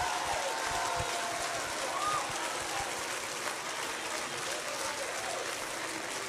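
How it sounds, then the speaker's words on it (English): A church audience standing and clapping their hands, a faint, distant, continuous patter of applause like rain, with little else rising above it. "Somebody stand up and clap your hands."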